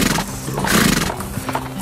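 A horse whinnies loudly, close by, while its hooves clop in an uneven rhythm beneath the neigh.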